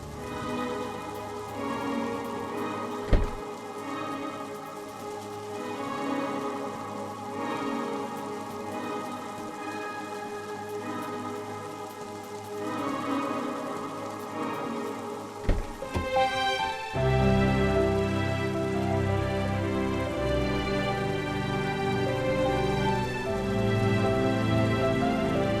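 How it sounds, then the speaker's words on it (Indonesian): Steady rain falls outside, a continuous even patter of drops mixed under soft background music, with one louder knock partway through. "ini di luar hujan loh, Mas"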